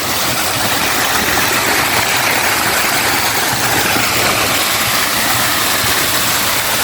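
A high waterfall in a river roars as a dense, steady broadband rush, loud and close throughout with no break or voices.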